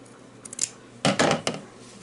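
Scissors snip through lace trimmed from a dress being enlarged: a couple of light cuts, then a quick burst of crisp closer snips, with quiet pauses between.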